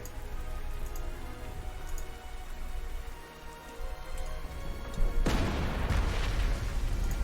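Steady rain pours across a Panzer Corps 2 battlefield in the 1942 Lake Ladoga campaign, a dense continuous hiss with scattered drops and a brief heavier swell near the end, no voices.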